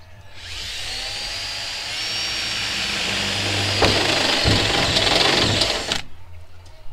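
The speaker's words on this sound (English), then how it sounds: "So I'm going to drill a pilot hole for the jigsaw blade now." A power drill bores a pilot hole through a metal panel during a Renault Trafic day van conversion, a loud, steady whine with the motor strain shifting midway and a few sharp clicks before it stops abruptly.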